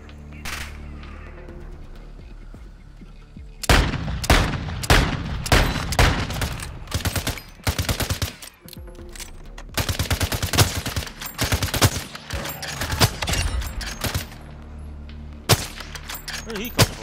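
Loud gunfire in the Call of Duty Modern Warfare DMZ video game: after a quieter start, sharp rapid shots and automatic bursts hit in clustered volleys, close and punchy, continuing to the end.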